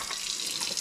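Water running from a reverse osmosis tap into a container, a steady close hiss of flowing water that stays even throughout, with no voices.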